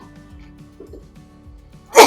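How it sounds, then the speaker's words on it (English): A single sharp sneeze bursts out at the very end, loud and close, following a stretch of low background murmur in a Walt Disney World setting. "I'm going to sneeze as well."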